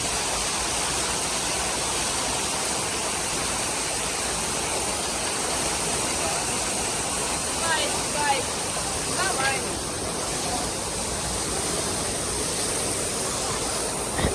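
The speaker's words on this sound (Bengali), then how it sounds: "এখানে পানিটা ফল হয়ে এই পাশে পড়তেছে" A fountain at Alexander Garden in Moscow, beside the Kremlin, sends water cascading in a steady, broad rush that holds evenly throughout, with faint voices in the background.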